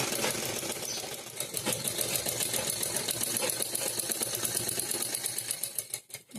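A sewing machine runs fast and steadily, stitching piping onto a simple cotton blouse. The needle makes a dense rhythmic clatter that lasts most of the clip and slows to a stop near the end, with no voices.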